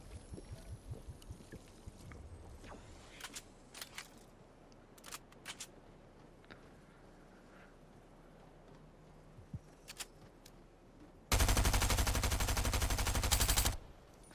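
Gunfire in the Fortnite video game: scattered sharp shots and bursts over a low background, ending in a loud sustained burst of rapid fire lasting a few seconds, with no talking.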